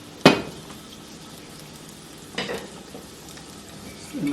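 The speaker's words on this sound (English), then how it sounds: "I'll just fry them for like around 10 minutes. So you have to keep checking up, stir this up." Whole potatoes fried in a pan with oil for a dum aloo dish, with two distinct clattering stirs about two seconds apart over a low steady sizzle, close and clear, no talking.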